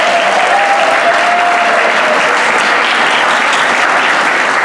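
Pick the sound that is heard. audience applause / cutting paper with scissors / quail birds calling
audience applause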